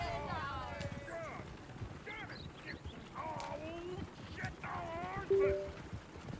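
Horses trot at a steady clip-clop in Red Dead Redemption 2, hooves thudding beneath near, continuous voices of people talking over them.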